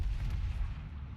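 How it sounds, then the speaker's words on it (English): Heavy naval gunfire from the battleship Tirpitz in World of Warships, a continuous deep booming rumble of big-gun salvos, loud and close with no talk. "Turning to get the rear guns on target."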